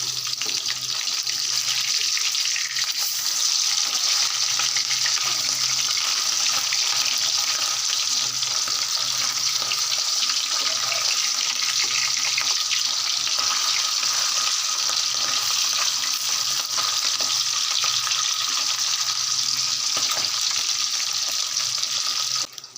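Continuous hiss of hilsa fish frying in oil, a steady bright crackle with faint stirring and scraping underneath, no voices.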